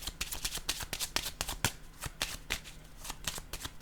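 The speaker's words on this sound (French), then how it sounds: "je vais choisir une autre carte" Tarot cards being shuffled by hand, a steady run of quick crisp riffling snaps and flutters, close and fairly quiet, with no voices.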